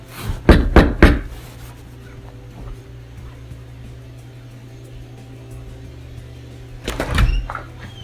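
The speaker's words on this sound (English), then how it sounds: "let's knock on this door and see what we can find" Knocking on a front door: a quick run of three firm raps near the start, then a quiet pause with a steady hum, and another short pair of knocks near the end.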